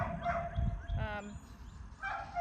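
A leashed puppy lets out a brief high yip and whine during a training session, near and moderately loud, with a person speaking around it.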